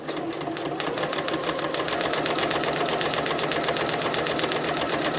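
A sewing machine runs steadily at close range, its needle stitching in a fast, even mechanical rhythm without pause.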